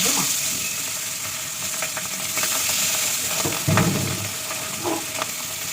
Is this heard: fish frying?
yes